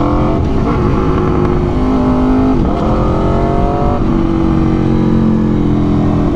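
Aprilia RSV4 1100 Factory motorcycle (2022) pulling hard in second gear, its engine note climbing steadily in pitch with a brief dip at a shift, loud and close throughout with rushing wind.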